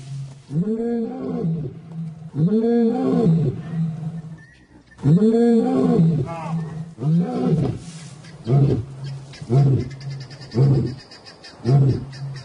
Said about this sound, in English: as they roar their displeasure, the cubs scatter into the bush